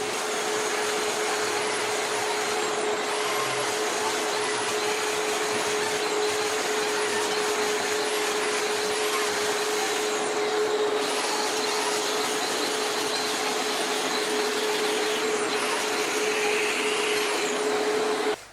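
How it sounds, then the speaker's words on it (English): A 4-inch grinder fitted with a diamond crack chaser wheel cuts along a concrete floor joint in a garage, a loud, unbroken whine and rasp held close throughout with no voices. "Put it on a 4-inch grinder. You want to grind both sides and clean all the debris out of the bottom of the joint."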